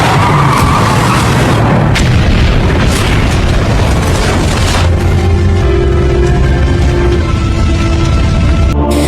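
A loud, rumbling explosion with crackling debris that gradually settles into a lingering low roar, ending in a sharp cutoff.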